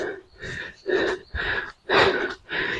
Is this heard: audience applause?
no